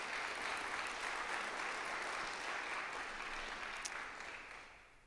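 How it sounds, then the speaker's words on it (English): An audience at a 2021 university State of the University address gives sustained applause, steady and fairly distant, before it gradually fades away. "Let's give them a round of applause."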